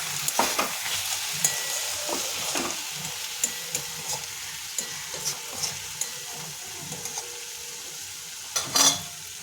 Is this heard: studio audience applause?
no